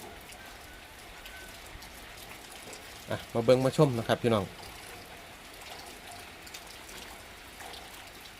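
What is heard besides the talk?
rain falling during a storm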